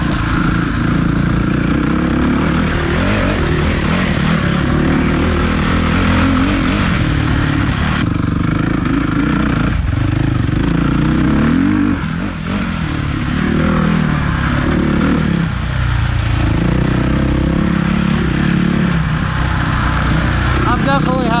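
A Suzuki RMZ450 dirt bike engine roars continuously and loudly while being ridden, with a rough revving drone that rises and falls over about twenty seconds, and a rider's voice heard over it.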